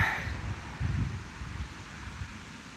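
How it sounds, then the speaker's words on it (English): Wind gusts outdoors in low, uneven rumbling buffets against the microphone, beginning with a brief brighter swell, then thinning to a fainter rush. "wind is, as of now, starting to kind of pick up"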